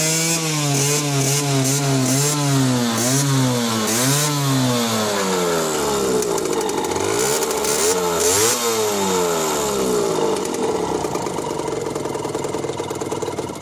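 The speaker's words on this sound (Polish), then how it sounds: "Motor praktycznie zapala, ale bardzo tempo się na obroty wkręca." A Skyteam motorcycle engine that lacks power, started and revved, with steep rising and falling pitch sweeps as the throttle is blipped repeatedly, loud and close, settling into a rougher, busier drone in the second half.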